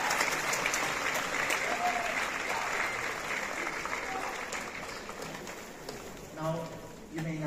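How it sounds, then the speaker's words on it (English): A graduation ceremony audience at LPU in 2024 claps in a loud, dense, sustained round of applause that fills the whole stretch, with a voice briefly rising over it near the end. "Let's give them a round of applause."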